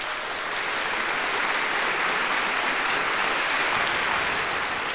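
Audience at an award ceremony applauding steadily, a dense, even wash of clapping from a large crowd that holds at the same level throughout, with no voices over it.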